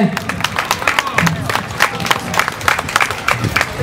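A crowd claps steadily with scattered cheers, the applause dense and fairly close, voices mixed in.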